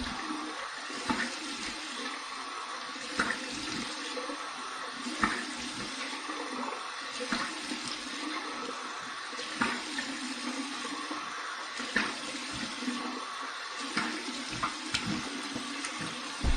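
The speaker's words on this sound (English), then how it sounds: "Let's run some cold water here." Cold water runs from a bathroom tap for a rinse after shaving, a steady close rushing stream with a few splashes breaking through, and no one talks.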